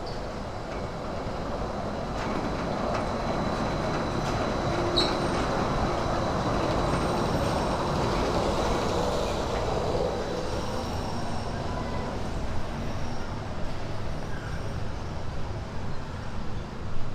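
A Disneyland monorail passes overhead with a steady, broad rolling rumble and a faint high squeal, moderately distant, amid outdoor park ambience.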